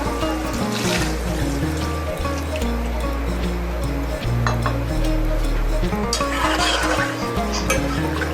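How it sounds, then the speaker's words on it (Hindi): Mutton stock (yakhni) is poured into spiced yogurt masala in a pot, giving a trickling, splashing pour with light clinks of utensils under a low steady hum. "अब हम इसके अंदर यखनी डालेंगे।"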